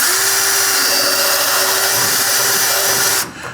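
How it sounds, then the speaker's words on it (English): A loud, steady whine of a power drill boring into material, running continuously for several seconds before cutting off abruptly near the end. "I'm going to go ahead and drill all 5 holes around this thing."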